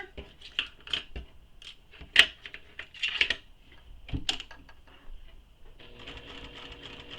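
A sewing machine stitches a small fabric toy at a short stitch length and pivots around a corner, giving faint, uneven bursts of needle clatter with brief stops and clicks, then a steadier whir.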